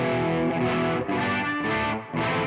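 An electric guitar plays through a Kuassa Efektor overdrive pedal emulation on its boutique setting, giving a thick, mid-heavy driven tone. Several sustained, ringing strums follow one another in a loose rhythm, each swelling and fading, with no talking.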